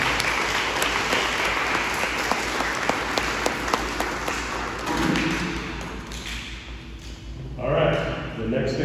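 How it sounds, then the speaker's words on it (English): An audience at a fifth grade celebration assembly claps for students receiving academic awards, a full round of applause with a few sharp louder claps, tapering off toward the end as a voice comes in. "let's give all of the students who got these academic awards a big round of applause"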